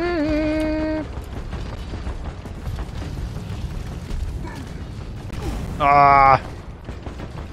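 Master Exploder enemy in the video game Deep Rock Galactic, a dense rumbling, crackling mechanical din of game effects running throughout, with shouted voices and bursts of music-like tones over it.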